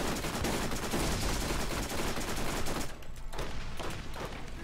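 Rapid bursts of automatic weapon fire in the co-op shooter Borderlands, dense and continuous for about three seconds before breaking into a few shorter spaced volleys.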